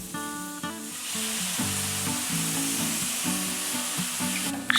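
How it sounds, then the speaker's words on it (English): Gai lan leaves stir-fried in sauce with shiitake mushrooms, a steady loud sizzle running throughout under recurring tonal background music, with a brief scrape or clatter at the very end. "Stir fry until the sauce is evaporated."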